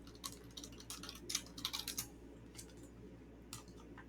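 Fingers typing on a computer keyboard in faint, intermittent bursts of quick key clicks. The clicks thin out toward the end, and no one speaks.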